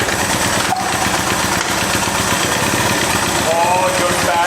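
An abandoned three-wheeler ATV idles a little high, its small engine putting out a loud, steady, throbbing putter close by with slight rhythmic unevenness.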